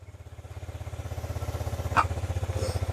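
A Kymco scooter found in a barn after years of sitting idles with a steady, rapid low putter up close. A brief click and light handling noise come partway through.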